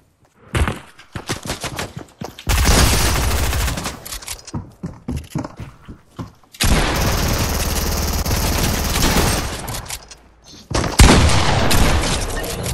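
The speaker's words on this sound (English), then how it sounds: "I suck with the fucking pump shotgun" Pump shotgun blasts in a shooter video game ring out as loud, booming shots in clustered bursts separated by brief gaps, with sustained gunfire noise filling long stretches.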